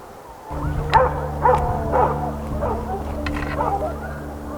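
Hunting dogs on a Spanish montería bark and yip at a distance in an outdoor setting, a string of overlapping calls rising and falling over a steady background hum.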